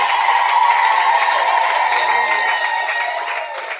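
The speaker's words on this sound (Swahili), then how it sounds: "Makofi mengi kwa Bwana" Guests at a church wedding ceremony clap steadily right after the couple's vows, a dense, continuous burst of applause with some crowd noise that fades slightly toward the end.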